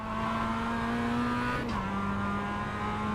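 A Mazda MX5 pulls away from a standing start on a race track, its engine droning steadily at high revs, heard from inside the car, loud and continuous with a brief shift in pitch partway through.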